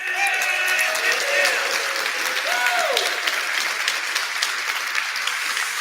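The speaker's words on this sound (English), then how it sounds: "Let's give him another round of applause." Sustained audience applause after a conference keynote, steady and full for the whole stretch, with a few whoops and voices riding over the clapping.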